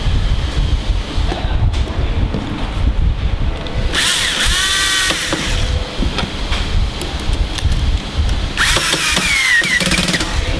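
Power drill driving screws into a window regulator bracket on a Plymouth Prowler, two loud whirring bursts with rising and falling pitch, separated by quieter handling noise and background rumble.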